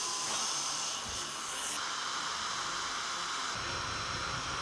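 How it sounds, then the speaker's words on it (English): An improvised poor man's lathe spins a folding knife crossbar with a steady, continuous motor whine and hiss, holding an even pitch with small shifts partway through. "And now we'll use the poor man's lathe."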